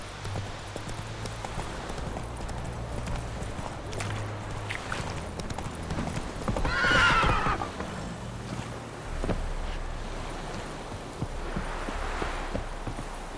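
Roach, a horse in the video game Witcher 3, trots with rhythmic clip-clop hoofbeats and lets out a loud neigh partway through, over steady background ambience.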